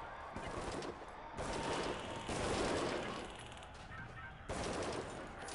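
Gunfire during a prison riot in Prison Architect comes as dense, crackling bursts of rapid shots in several waves, fairly close and harsh, with no talk over it.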